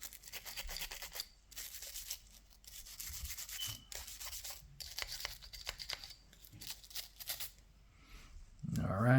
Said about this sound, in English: We take the nylon brush and we just scrape and brush everything to help break up what's there.